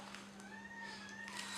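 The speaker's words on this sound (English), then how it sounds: "sorry for the background noise, this is just my cute little cat." A small pet cat indoors gives a soft, drawn-out meow, faint and fairly close, over a steady low electrical hum.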